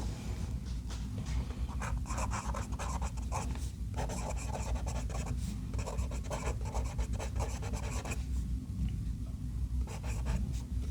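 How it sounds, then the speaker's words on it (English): A fountain pen with a medium steel Jowo nib scratches across paper, a soft continuous rasp broken into short strokes and pauses, close and quiet over a low steady background hum. "Now for a writing sample."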